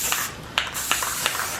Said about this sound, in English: Spray paint is awesome for 3D prints.